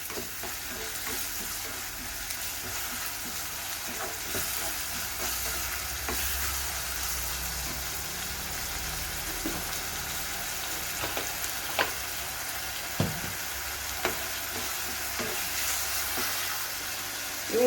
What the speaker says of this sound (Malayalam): നന്നായി നമുക്ക് ഉള്ളി ഒന്ന് വഴറ്റിയെടുക്കാം